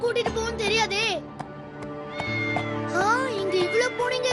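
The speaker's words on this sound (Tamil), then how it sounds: "இங்க இவ்வளவு பூனைங்க இருக்கே." Cartoon cats meow over and over in a Tamil animated series, several bright, wavering mews rising and falling in quick succession, close and clear.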